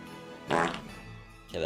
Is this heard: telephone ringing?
no